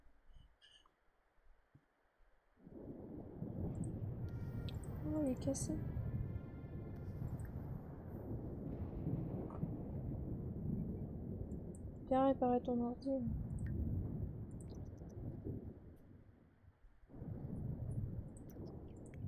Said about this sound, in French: Encore de l'orage.